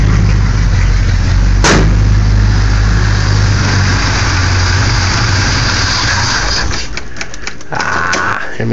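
A Chevrolet C10 pickup engine idling on old gas with a worn carburetor, loud and close, a rough low rumble with a sudden clank partway through and rattling at the end.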